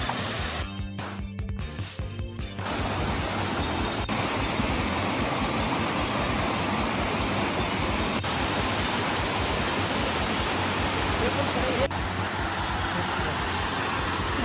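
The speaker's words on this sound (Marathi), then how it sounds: "पाणी बघा वरून येतोय, वरून कसं पडतंय पाणी." A hidden jungle waterfall near Panshet, Pune, pours down from above with a loud, dense, unbroken roar of spraying water, heard up close after a brief crackle of handling noise at the start.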